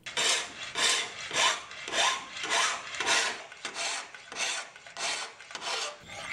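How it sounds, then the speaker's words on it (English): A 12-inch bastard file rasps along a knife bevel on a rod-and-eye-hole jig, about nine steady, even strokes, each a loud swelling scrape with a brief pause between. No voices. "It uses a 12-inch bastard file attached to a rod that goes through an eye hole."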